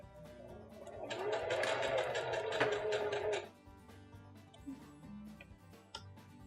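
A sewing machine runs a short burst of rapid, rhythmic stitching, back-stitching the end of an elastic casing on a cloth pocket diaper. It stops after a few seconds, and only faint clicks and handling noises follow.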